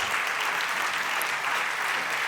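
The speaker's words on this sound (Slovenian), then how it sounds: "Še en aplavz" Even, dense applause fills a hall at a closing awards ceremony for a Slovenian innovation competition, a continuous crackling roar without breaks.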